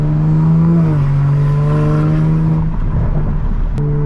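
Modified 2020 Toyota Supra making over 500 wheel horsepower, heard from inside with the windows down: a loud, steady engine drone holds and shifts pitch, then settles lower as road noise grows, with a short click near the end.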